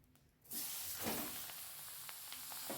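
Grated ash gourd, squeezed dry, drops into hot oil and tempering spices that had begun to scorch, bursting into a loud, steady sizzle after a short quiet moment and crackling on without any voices.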